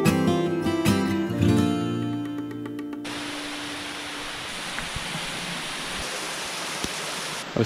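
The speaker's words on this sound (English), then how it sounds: "It's raining on and off" Rain falls on a forest trail at Manoa Falls, Hawaii, a steady broadband hiss that continues without pause, heard alone after an opening stretch of music with a few faint taps.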